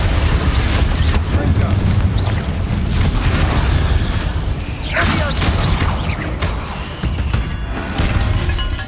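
A Confringo spell explodes in Hogwarts Legacy, a loud, sustained booming blast with crashing, crackling debris throughout.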